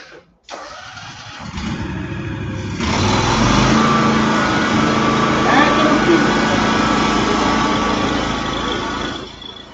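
A high-speed floor machine with diamond polishing pads on concrete starts with a click and spins up into a loud, steady, close whir. People talk over it.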